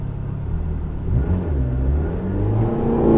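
A 2022 McLaren GT accelerates at full power with a loud, steady engine roar that builds in pitch and intensity toward the end.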